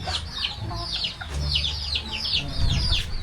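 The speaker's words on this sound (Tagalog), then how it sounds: "Alagang manok po ni Papa." Backyard chickens cluck in repeated short bursts near feeding time, with ducks nearby and some low rumbling underneath.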